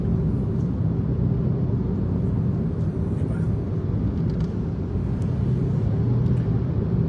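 Steady low engine and road rumble from inside a small hatchback car while driving, continuous and close with no voices, broken only by faint occasional clicks.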